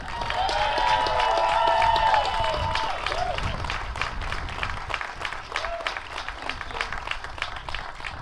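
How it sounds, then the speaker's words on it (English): A large crowd at an outdoor ALS charity walk in Ottawa applauds steadily, with some cheering and a few voices at the start. "Please welcome, with a warm round of applause"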